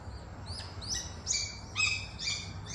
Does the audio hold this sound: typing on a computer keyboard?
no